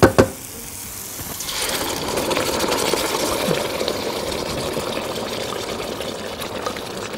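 Chicken pieces frying in a pan with chopped onion, a loud hiss erupting right after a sharp clatter and then settling into a steady, dense sizzle that continues to the end.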